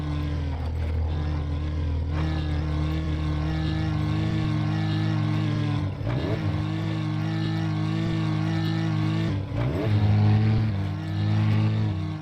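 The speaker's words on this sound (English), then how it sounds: "The sound while accelerating doesn't match the idle sound at all." A modded truck engine in SnowRunner drones steadily, then revs up in two sharp surges with rising pitch before settling back to a loud, even hum; the acceleration sound mismatches the idle.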